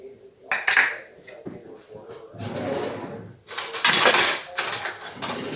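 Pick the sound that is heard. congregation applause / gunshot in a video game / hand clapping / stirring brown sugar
stirring brown sugar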